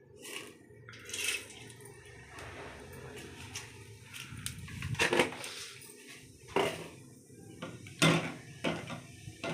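Cooked spinach and lentil dal is mashed with a grinding stone, making a series of irregular thuds and scraping knocks close by, some soft and wet-sounding.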